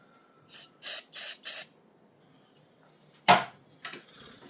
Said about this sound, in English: I'm going to spray some brake clean in there.